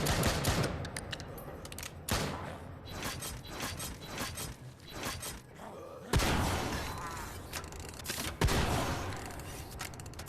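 Rapid gunfire shooting zombies in the video game Drop Dead Dual Strike, dense bursts of shots with heavier blasts and mechanical clatter, loud and continuous.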